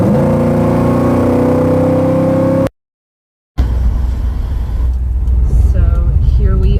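A car being driven fast on the Pacific Coast Highway near Mugu Rock, a loud steady engine drone that cuts out briefly, then returns with rushing road and wind noise as it picks up speed.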